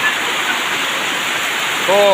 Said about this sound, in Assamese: পুৰা পানী কলকলাই যাই আছে